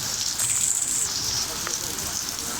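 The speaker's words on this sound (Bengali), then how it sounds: "আজও দেখতে পাচ্ছি বেশ জোরে জোরেই বৃষ্টি হচ্ছে।" Heavy rain falling on a street in Dhaka, a steady dense hiss of downpour, even and continuous.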